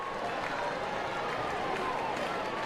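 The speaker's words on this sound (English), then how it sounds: "Lively crowd here at the box tonight" Steady crowd cheering and applause fills a college baseball stadium, Auburn versus LSU, a sustained broad roar with no clear breaks across the whole stretch.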